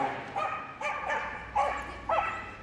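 A small dog barks in short high-pitched yappy bursts, about five of them in quick irregular succession, close and loud, at an indoor dog agility event.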